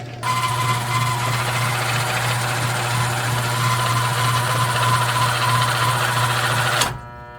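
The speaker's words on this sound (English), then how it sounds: "I'm going to play some video now of how the motor sounded, the bad motor sounded." A faulty washing machine motor playing back as a recording, a steady loud electric hum with a strong low drone that runs evenly for about seven seconds, then stops abruptly.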